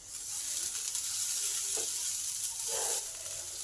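Mixed vegetables for an oats vegetable soup fry in a pan, a steady close sizzle with a few soft stirring scrapes and no voices.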